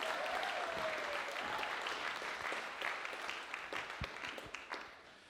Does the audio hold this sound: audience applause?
yes